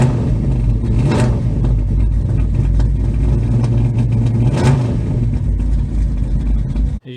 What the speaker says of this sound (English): Car fires immediately, runs very, very well.